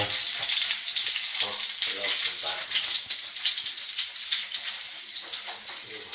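Garlic-rubbed chicken breast cutlets sizzle in a frying pan, a close, steady crackling hiss with faint stirring clatter and no clear speech.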